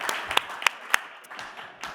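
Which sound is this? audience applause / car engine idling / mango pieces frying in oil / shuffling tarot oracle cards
audience applause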